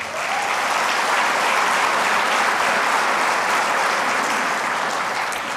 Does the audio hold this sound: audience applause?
yes